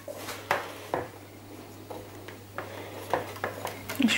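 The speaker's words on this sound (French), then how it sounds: "Et on va touiller et on va se dépêcher pour pas que les œufs cuisent en même temps" Chocolate batter with eggs stirred in a bowl, soft irregular clinks and scrapes of a utensil against the bowl over a low steady hum, fairly quiet.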